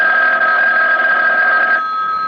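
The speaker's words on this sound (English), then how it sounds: "And then the phone rang." A telephone bell rings in a radio drama, one continuous loud ring lasting about two seconds and then cutting off, heard alone without talk.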